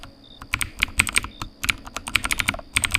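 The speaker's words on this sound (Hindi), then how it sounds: "कीबोर्ड की टक टक" Close, crisp computer keyboard typing in a call center with irregular bursts of key clicks and brief pauses between them, heard alone.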